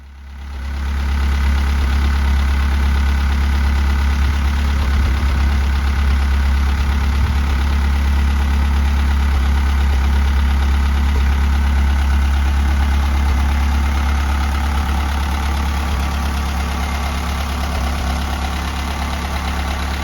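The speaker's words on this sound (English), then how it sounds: "testing and bedding in a reconditioned Model A Ford engine" A reconditioned Model A Ford engine idles steadily and loudly up close in a workshop, a low continuous rumble with a faint ticking texture throughout.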